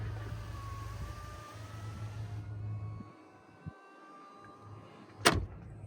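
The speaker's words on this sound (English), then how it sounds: "it can lower all the way down to the lowest setting or raise all the way up for off-road setting" Air suspension on an Audi SQ7 raising the body to its off-road height: a steady low pump hum and faint whine that cut out midway, leaving near silence broken by a soft knock and a sharper click near the end.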